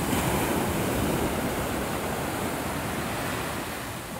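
Ocean surf rolling onto a beach in Destin, Florida, a steady broadband wash of breaking waves that stays loud and continuous throughout, with some wind noise and no voices.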